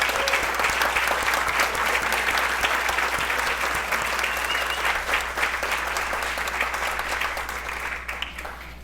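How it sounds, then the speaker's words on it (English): An audience applauds staff inside a tent at a community event, dense steady clapping from many hands that holds for the whole stretch and thins slightly toward the end, with no voices over it. "could you please stand so that we could give you a round of applause?"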